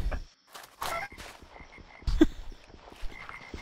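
Frogs in the RLCraft video game croak in a loose series of short, repeated calls, close and moderately loud, some louder bursts standing out against a quiet background, with no speech.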